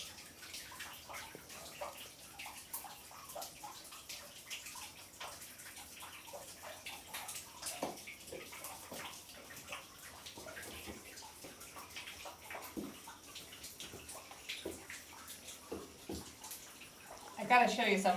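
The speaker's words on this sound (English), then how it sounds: "There's a small pool cavern, but all the water is coming through the rock." Water trickles and drips through rock into a small pool inside a cavern, a faint, steady wet patter with scattered drips, heard under people talking.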